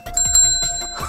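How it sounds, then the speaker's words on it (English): A bright bell rings several times in quick succession at a children's museum, close and clear, with ringing tones that linger between strikes. "A bell! Listen!"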